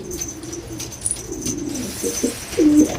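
A pet pigeon coos in a low, throaty run of short notes near the end, preceded by softer murmurs and rustling, with faint background chirps from other birds nearby.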